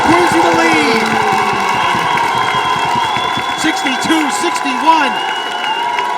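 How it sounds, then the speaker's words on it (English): A crowd cheers and shouts in a high school gymnasium during a boys basketball game, loud and sustained, with sneaker squeaks cutting through and a commentator talking over the noise. "Crowd on their feet here in the gymnasium."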